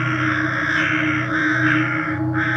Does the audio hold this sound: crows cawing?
yes